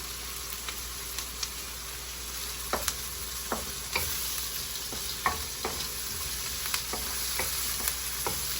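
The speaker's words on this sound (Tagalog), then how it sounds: "Lagay na natin yung sardinas. Medyo tatarsik-tarsikin mamaya kasi may sabaw." Canned sardines in sauce sizzle and crackle in a hot pan with garlic, a dense steady frying hiss broken by sharp pops and occasional stirring clicks, heard up close with no talking.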